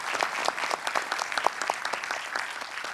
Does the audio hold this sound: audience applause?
yes